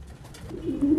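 Cooing of French meat pigeons, a low soft coo that swells louder near the end, with no voices.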